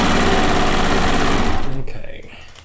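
Sewing machine stitching fabric for a Lacey Log Cabin quilt top: a fast, loud, close whir with rapid needle pulses that slows and dies away near the end.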